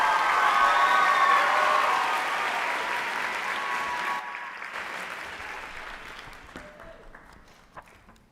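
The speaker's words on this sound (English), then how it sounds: "So please help me with a warm applause for Delaney" A graduation audience applauding, dense sustained clapping from a large crowd with a few cheers that gradually tapers off and fades to quiet.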